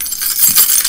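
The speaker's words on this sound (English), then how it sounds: "The keys are so loud." A large bunch of keys jangles close and loud, a bright metallic clatter of many keys striking one another at once, brief and alone.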